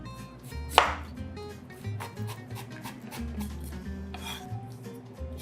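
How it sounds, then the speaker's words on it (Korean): A knife finely minces carrot on a cutting board, giving close, steady rasping chops with one sharper knock near the start. "당근도 조금 다져 넣을게요."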